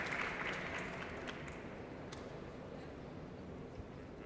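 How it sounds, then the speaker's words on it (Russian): Audience at a final presentation event for innovation projects applauding, a dense even wash of clapping that starts a little louder and holds steady for several seconds. "Друзья, поактивнее аплодируем друг другу."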